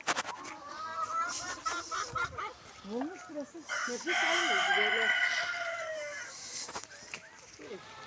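Chickens cluck and a rooster crows nearby while people talk over them, the birds' calls blending with the voices throughout.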